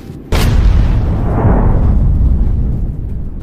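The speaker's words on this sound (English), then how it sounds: "A missile flies, hits the escaping APC." A missile strikes an escaping armored personnel carrier: a sudden, very loud explosion, then a heavy, sustained rumbling roar that lasts several seconds.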